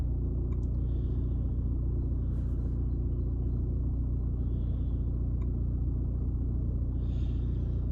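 A car engine idles as a steady low rumble, close and continuous throughout with no talk, during diagnostic work with a bi-directional scan tool after a pump test.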